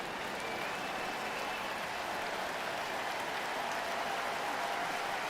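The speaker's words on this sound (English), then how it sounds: "Cease is going to get a big ovation from this sellout crowd" A sellout baseball crowd gives a pitcher a sustained ovation, a steady wash of applause and cheering that holds evenly throughout.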